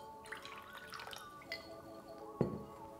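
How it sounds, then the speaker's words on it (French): Drops of echinacea tincture fall into a drinking glass, followed by a little water poured in: faint, scattered liquid drips and small glassy splashes ending in one clearer plop, with no talking. "Vous allez verser 30 gouttes dans un verre et vous complétez avec un petit peu d'eau."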